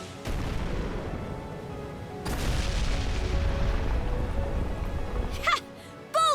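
An old cannon fires in the video game Ys X Nordics, two heavy booms with long rumbling tails, followed by short character voice sounds near the end.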